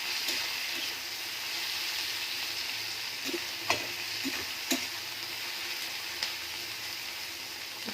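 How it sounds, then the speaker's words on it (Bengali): Onions, tomatoes and capsicum fry in a pan with a steady, close sizzle, broken by a few soft knocks and scrapes of stirring. "ক্যাপসিকাম এগুলো আমি একটু ভালো করে ভেজে নেব"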